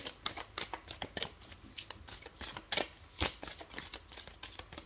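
Tarot cards handled and laid down to cover another card, a quick run of soft close flicks and slides of card stock against each other, quiet with no talking.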